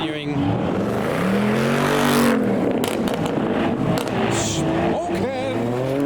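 A car pulls away hard from a car meet, its engine revving loud and close as it accelerates off, with crowd chatter and voices underneath.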